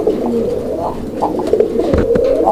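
Pigeons coo at a pigeon farm, their soft, throaty calls repeating close and loud in overlapping phrases with no talk.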